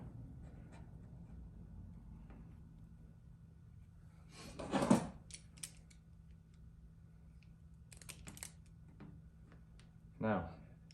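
Electrical wire is cut and split while wiring LED lights into an antique hutch, with two brief, crisp snips several seconds apart in a quiet room.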